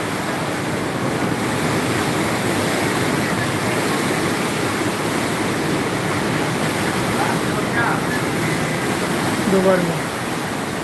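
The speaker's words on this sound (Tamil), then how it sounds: "அது ஃபுல்லாக கீழே வந்துடுது. திரும்ப வந்து அடுத்த பேஸ்லேருந்து தண்ணி பம்ப் ஆகுது." Steady rushing of pumped, circulating water falling and splashing into a basin, continuous and fairly loud, with a person briefly speaking over it near the end.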